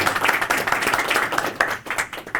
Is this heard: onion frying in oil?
no